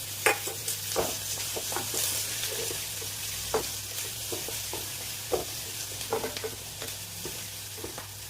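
Chopped garlic and curry leaves sizzle in hot oil in a pan for egg masala buns, with a steady frying hiss and repeated scraping stirs of a spatula against the pan.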